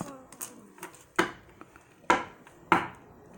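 Tarot cards are pulled from a deck with a few sharp, papery slaps and flicks spaced about a second apart, close and fairly crisp, between quieter shuffling rustles.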